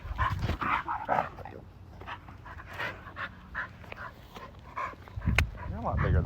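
A large dog pants heavily and makes brief whimpering, barking sounds close by during a walk, while a person talks over it.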